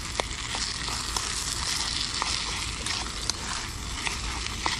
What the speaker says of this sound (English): we'll keep stirring that until the mince is browned